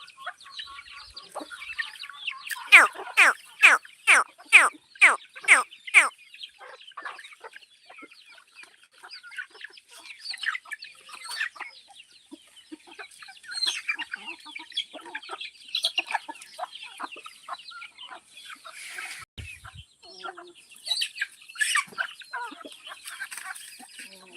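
Free-range desi hens on a small poultry farm cluck loudly in a quick rhythmic burst, then keep up scattered, overlapping clucks and chatter from several birds nearby.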